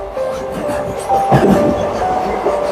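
A passenger express train rumbles through Baranagar station near Kolkata, a continuous close rolling roar with faint wheel clatter and a soft metallic ring over the rails.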